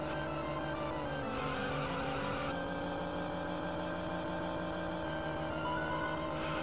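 Car engine revving and accelerating in the Hot Wheels Burnin' Rubber racing video game, a continuous loud engine whine with shifting pitch and some tire squeal, with no talk over it.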